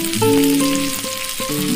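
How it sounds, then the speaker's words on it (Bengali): Capsicum, chopped onion, green chilli, ginger and garlic stir-fry in hot oil with a continuous close sizzle, accompanied by a stepping melodic tune. "তেলের মধ্যে আমি ক্যাপসিকাম, পেঁয়াজ কুচি, কাঁচা লঙ্কা ও আদা রসুন দিয়ে দিলাম।"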